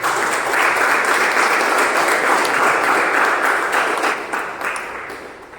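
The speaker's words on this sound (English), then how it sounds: "Let me have a huge round of applause." Loud, dense audience applause at a Toastmasters speech meeting greeting the first speaker, steady crowd clapping that holds for several seconds before tapering off.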